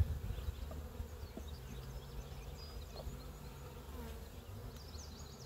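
Honey bees at an opened hive in a healing garden, a faint continuous buzzing hum with occasional soft clicks, no voices.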